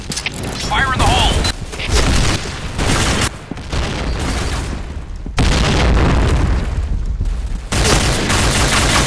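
Grenades in the shooter game Project Blackout go off in a string of heavy, loud booming blasts, separated by short gaps and mixed with crackling gunfire.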